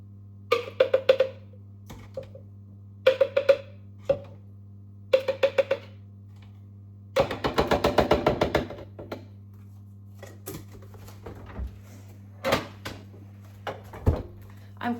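Fresh fruit being cut for a smoothie: bursts of sharp knife-on-board chops and taps in short clusters, with a denser run of rapid cutting midway, over a steady low hum, no talking.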